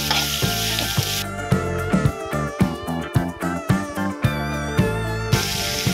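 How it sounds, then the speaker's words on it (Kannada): Onions frying in a pan until reddish for a bitter gourd sambar: a steady hiss that comes and goes, largely masked by loud, rhythmic background music. "ಈ ನೀರುಳ್ಳಿ ಕೆಂಪು ಬಣ್ಣ ಬರುವವರೆಗೂ ಸ್ವಲ್ಪ ಫ್ರೈ ಮಾಡಿಕೊಳ್ಳುವ."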